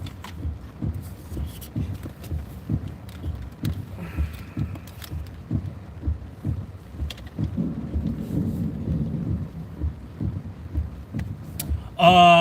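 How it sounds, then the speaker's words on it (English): Steady rain during a Texas thunderstorm near Junction, with low rumbling thunder rolling under the patter, a heavier swell in the middle and a louder burst at the very end. "Oh, there goes some lightning."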